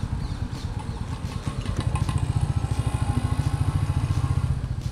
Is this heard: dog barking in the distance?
no